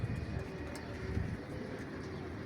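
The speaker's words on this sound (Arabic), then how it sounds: "بصوا الحمام يا جماعه" Pigeons coo softly and continuously inside a loft, a low steady murmur of overlapping calls at moderate distance.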